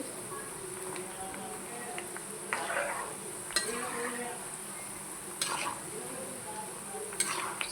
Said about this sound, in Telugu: చూసారా పల్లీలు కూడా దీంట్లోనే వేగుతుంది మనకి.